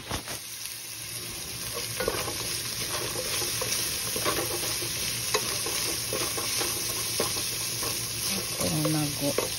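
Ginger, garlic and onion sauté in hot oil for a Filipino kangkong and ground pork dish, sizzling and crackling steadily at close range while a utensil stirs and scrapes the pan.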